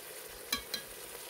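Ghee goes into a pot of chicken dum biryani cooking over a wood-fired chulha, a faint steady sizzle broken by two quick clinks of a spoon.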